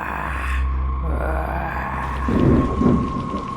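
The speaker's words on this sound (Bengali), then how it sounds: "ঝিরিঝিরি বৃষ্টি এখন কিছুটা জোরে পড়তে শুরু করেছে" Rain falling harder over a muddy graveyard in a Bengali ghost cartoon, a steady wash of downpour with a deep rolling rumble like thunder swelling near the end.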